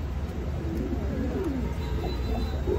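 Large Bombay pigeons coo softly in a loft, low, faint murmuring calls set against a steady background hum, with no voices.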